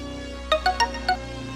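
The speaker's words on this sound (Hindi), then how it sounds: "ये तो सोनी का फोन है" A short electronic phone ring: four bright chiming tones in quick succession over a low steady hum, fairly quiet, no voices.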